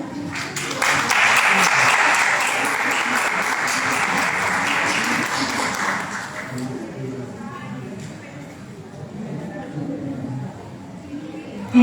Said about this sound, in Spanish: Aplausos por favor para Natalia